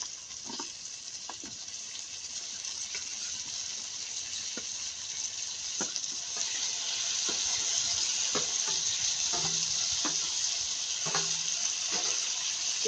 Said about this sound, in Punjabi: ਹੁਣ ਆਪਾਂ ਪਾ ਦਿੰਦੇ ਆ ਇਹ ਗੋਭੀ ਜਿਹਨੂੰ ਆਪਾਂ ਥੋੜਾ ਜਿਹਾ ਫਰਾਈ ਕਰਕੇ ਰੱਖਿਆ ਸੀ